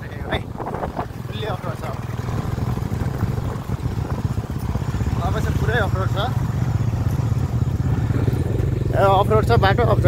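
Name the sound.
motorcycle riding on off-road track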